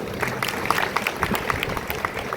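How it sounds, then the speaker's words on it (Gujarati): A crowd claps steadily throughout at an outdoor World Tribal Day celebration in Naswadi, a dense, continuous patter of many hands with no voices standing out. "આજે આપણે તાળીઓથી વધાવીએ"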